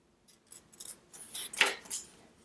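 Scissors snipping paper for an art project: several short, crisp cuts in quick succession, close and fairly quiet, with a denser cluster of snips near the end.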